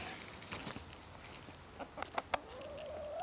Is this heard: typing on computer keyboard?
no